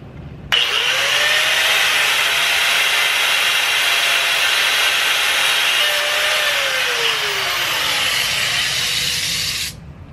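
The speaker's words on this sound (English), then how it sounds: "So now we're just gonna use an angle grinder with a cutting wheel" An angle grinder with a cutting wheel slices through a catch can hose line, a loud continuous high-pitched hiss and whine starting abruptly and running steadily for about nine seconds before cutting off, with slight pitch dips as the wheel loads.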